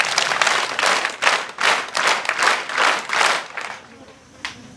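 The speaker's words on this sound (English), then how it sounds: "Let's clap for Him." Students at a school celebration applaud together in rhythmic waves, loud massed clapping pulsing in bursts for several seconds before fading to a lone late clap.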